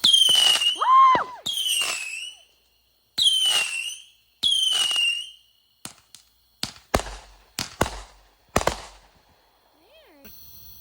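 Fourth of July backyard fireworks show: several whistling rockets rise with squealing tones, followed by a string of sharp, loud cracks and bangs spaced a second or so apart, with faint voices cheering.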